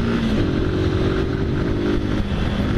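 A motorcycle engine hums steadily during a city ride, a loud continuous drone with slight throttle rises, close to the rider and with no talk over it.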